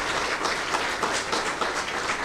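An audience claps steadily through a BJP election campaign speech by Annamalai in Coimbatore, a dense, continuous patter of many hands with no voice over it.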